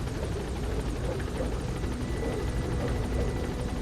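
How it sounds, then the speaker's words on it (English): A helicopter in the video game Metal Gear Solid V, its steady rotor thump and engine drone filling the scene continuously at an even, loud level with no pauses. "Get back in the helicopter."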